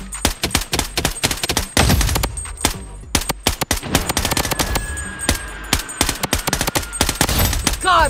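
Rapid bursts of automatic gunfire in the mobile shooter Blood Strike, dense and loud with short gaps, mixed with game effects and a brief voice callout.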